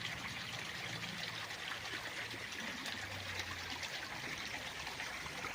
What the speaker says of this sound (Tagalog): Itong sapa na itong ating kinaroonan ngayon.